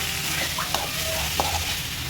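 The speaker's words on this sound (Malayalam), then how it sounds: "നമ്മൾ കുറച്ച് കറിവേപ്പിലയും കൂടി ഇട്ട് വഴറ്റണം." Curry leaves and lemon sauté in a pan for a home Onam meal, giving a steady close sizzle of frying with a few light scraping stirs of a spoon.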